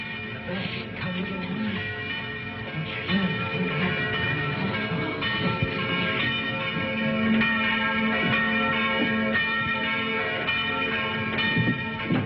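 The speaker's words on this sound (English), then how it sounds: "Did he ring the bell to say the gauntlet had come home?" A church bell rings in a 1952 noir film set in the French Alps, with steady repeated tolling and ringing overtones, mid-distance and fairly loud, with no voices.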